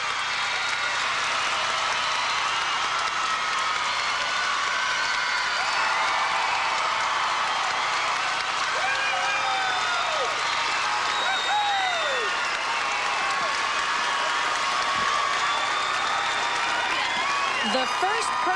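A gymnastics arena crowd in Portland roars with sustained applause and cheering for a perfect 10, a dense, loud wash of clapping with whoops and whistles rising over it throughout.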